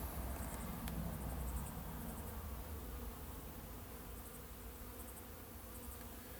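Honey bees in a long mini nuc hive being split, a soft, steady buzzing drone that stays faint and even, with no talk.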